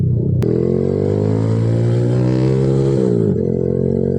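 A Honda Supra X 155cc motorcycle engine revs loudly and steadily up close on a test ride, holding a high pitch before dropping back briefly.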